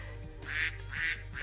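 Ducks in the Minecraft video game quack in two short bursts over a steady low background hum, fairly close and clear.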